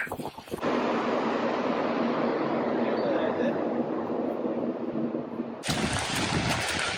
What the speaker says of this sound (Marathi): खूप हवा आहे.